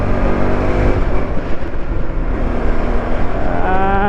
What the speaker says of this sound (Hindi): even though I am pulling this motorcycle from 6th gear, it's cleanly pulling and pulling so strong